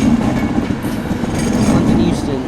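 Train at Manchester Piccadilly, a London Euston service, rumbling past with a steady rolling clatter of wheels close by and a faint voice beneath it.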